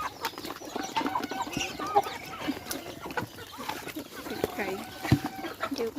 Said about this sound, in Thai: ไก่แม่มันออกมานะ